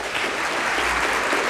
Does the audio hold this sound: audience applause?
yes